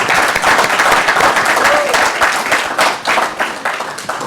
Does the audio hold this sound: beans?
no